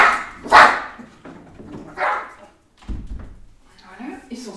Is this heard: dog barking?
yes